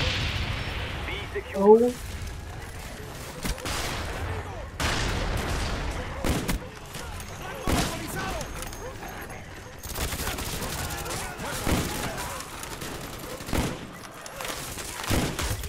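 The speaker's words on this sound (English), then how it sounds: "Friendly napalm strike on the way" Napalm strike in Call of Duty: Black Ops multiplayer, a series of muffled booms and gunfire bursts rolling through the match, with a brief radio voice and player chatter over the top.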